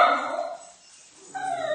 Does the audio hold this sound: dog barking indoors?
yes